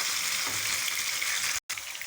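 Chicken pieces frying in a pan, a dense, steady sizzling hiss close up with faint stirring, broken by a brief total dropout near the end, no voices.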